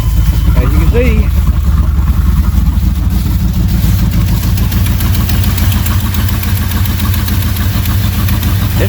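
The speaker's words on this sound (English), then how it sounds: "this thing, after sitting all these years with bad gas, still runs" A 1993 Chevy K1500 truck engine, revived after sitting for years with bad gas, idling with a loud, steady low rumble close by while someone talks over it.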